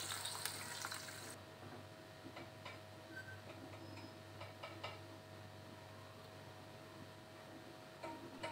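Anchovies fry in a pan with a soft, steady sizzle and light crackle, with occasional faint ticks and stirring clicks close by, no voices.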